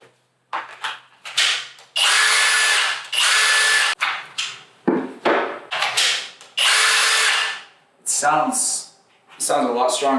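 A Kobalt XTR power tool, fitted with new batteries, whirs loud and close in several bursts, starting and stopping repeatedly with short pauses between the runs.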